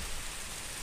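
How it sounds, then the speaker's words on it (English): A steady, even hiss of rain falls outside, soft and continuous for a brief moment with no other sounds. "It's raining pretty good."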